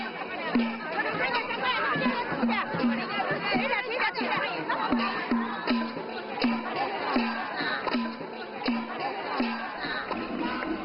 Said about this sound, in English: The boisterous parade brings a festive atmosphere to the otherwise quiet streets.